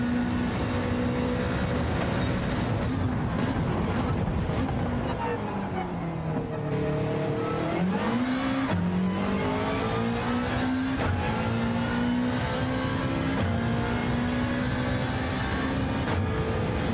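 A Subaru WRX race car in Gran Turismo 7 drones steadily at close range, its engine tone rising and falling through gear changes and a dip near the middle, with faint talk underneath.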